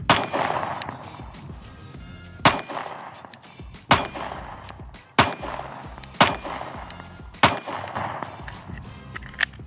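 Pistol shots ring out one after another at a steady pace, each sharp crack followed by a metallic clang as the bullet strikes a small steel target, about seven shots with short pauses and no talking.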